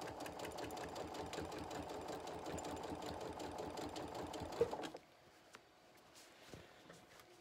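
A sewing machine stitches binding onto a quilted table runner in a fast, steady mechanical patter for about five seconds, then stops, leaving faint handling noises.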